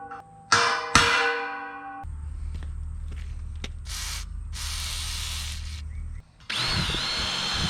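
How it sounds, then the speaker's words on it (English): A corded power drill whirs steadily for several seconds after a couple of sharp clanks, drilling a large hole for a heavy-duty trailer ramp bracket rod, stopping briefly before spinning up again nearby. "I switched over to a corded drill just because it's quicker, it's more powerful"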